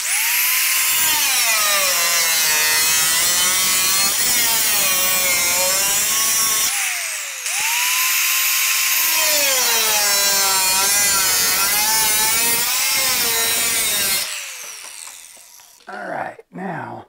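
Power tool cutting through the tunnel of a Polaris Matryx snowmobile, a loud, close, continuous buzzing saw whine with rising and falling pitch sweeps, pausing briefly midway, then stopping with a few short bursts at the end.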